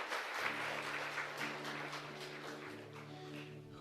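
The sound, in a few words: congregation applauding after Mass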